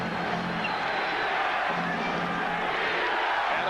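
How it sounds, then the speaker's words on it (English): Roaring Forum crowd at a Lakers home playoff game in the 1991 Finals, a loud, sustained wash of massed voices and cheering that holds steady throughout. "And a defense from the Forum crowd"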